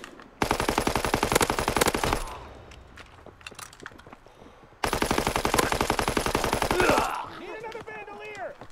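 Machine gun fire in the shooter game Call of Duty WWII: two long, loud, rattling bursts separated by a quieter pause, ending with faint mechanical clatter and a short tonal effect.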